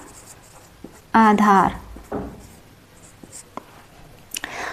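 Trigonometry ratios being written on a board during a lesson: short scratchy writing strokes come in scattered bursts, and a teacher's voice speaks briefly in between.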